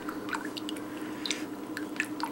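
Vegan silk hemp soap batter stirred and mixed in a container, giving soft wet squishing and dripping sounds in an irregular rhythm, close and fairly quiet with no talking.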